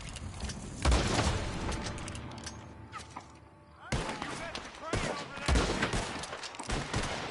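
Gunfire at a roadblock in Red Dead Online, with loud sharp shots in separate bursts among thumps and other game sounds, and some talk in between.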